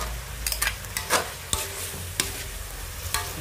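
Eggplant being stirred into thick oyster sauce in a home-kitchen pan: a quiet simmer broken by a handful of sharp spoon scrapes and clinks against the pan at irregular moments.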